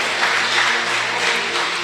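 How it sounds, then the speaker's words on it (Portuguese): Congregation applauding during a church service, a steady dense wash of clapping, moderately loud and sustained with no voices over it. "Aplaude ao Senhor Jesus."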